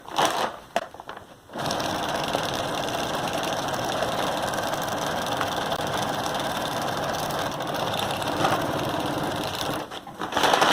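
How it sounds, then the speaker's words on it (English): A sewing machine stitches a strap onto a tote bag made from a feed bag, running as a steady, close mechanical whir for several seconds, with brief stops and clicks at the start and end. "you're going to sew back to where you started"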